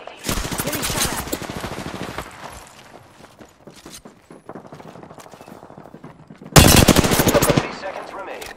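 Automatic gunfire in the Apex Legends battle royale game rattles in rapid close bursts, a long volley, scattered shots and softer footsteps, then a second loud burst near the end, with a voice talking in between.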